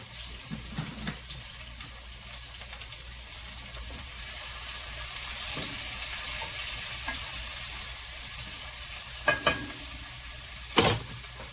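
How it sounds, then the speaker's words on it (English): Rutabaga frying in a pan, a quiet steady sizzle with a few scraping and clinking touches from a spoon stirring it, and a sharper clatter near the end. "I'm going to get a spoon and stir this a little bit."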